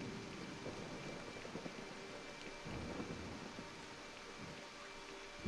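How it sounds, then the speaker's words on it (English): Rain falls in the video game Disney Dreamlight Valley, a soft steady patter with low rolling thunder rumbles, quiet and ambient without talking. "It is raining."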